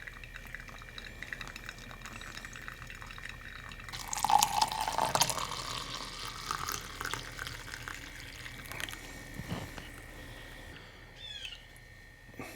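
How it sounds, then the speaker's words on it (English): A thin stream of water trickles and pours steadily for several seconds, close and fairly quiet, with light dripping and faint background ambience. "You got to do pour over coffee."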